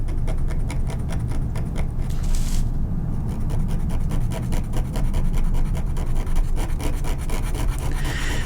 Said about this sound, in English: with ink scraper, you can go in and with a lot more control, even if you're careful enough, scrape out an individual line